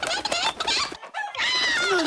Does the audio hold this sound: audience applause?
no